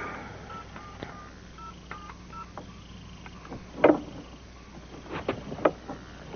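A telephone number dialed on a keypad, a quick irregular series of tones of varying pitch, moderately close, with faint handling noise and no speech.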